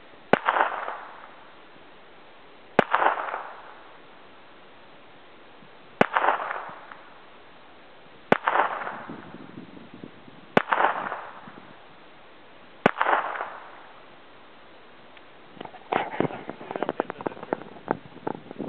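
A .22 Beretta pistol fires six single shots outdoors at steady intervals of about two seconds, each a sharp crack followed by a short echoing tail, then a burst of faster, lighter pops near the end.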